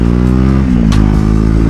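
A Husqvarna Vitpilen 401 single-cylinder motorcycle engine thumps deep and loud through its aftermarket exhaust, a steady close rumble with a brief rise in revs.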